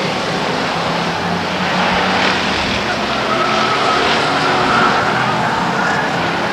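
Race cars roar around the Stockton 99 Speedway oval in a dense, loud, continuous engine wash, with hints of tire skid near the finish of the race.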